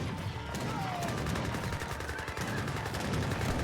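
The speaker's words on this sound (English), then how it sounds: "Now got some heavy cannons being employed on the field. Imperial cannons from the British." In an Age of Empires 3 battle, British imperial cannons boom beneath dense, continuous musket gunfire. The crackle is loud and unbroken throughout, with a faint commentator voice under it.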